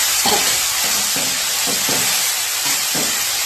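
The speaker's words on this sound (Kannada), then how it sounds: "ಫ್ರೈ ಮಾಡ್ಕೊತಾ ಇದ್ದೀನಿ. ಈಗ ಪುದೀನ ಚೆನ್ನಾಗಿ ಬಾಡಿಸ್ಕೊಂಡಿದ್ದೀನಿ." Mint leaves frying in a pan, a steady broad sizzle with soft repeated stirring scrapes at an irregular rhythm, close and fairly loud throughout.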